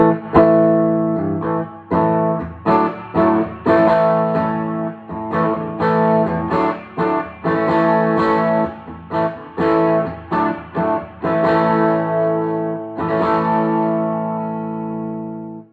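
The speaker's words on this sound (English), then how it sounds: "now I'm going to turn up the volume pedal a little bit more and kind of get like a crunchier kind of tone" Electric guitar with a crunchy, slightly distorted tone from a turned-up volume pedal, played as a series of sustained chords and short phrases with brief gaps, ringing with reverb and no talk.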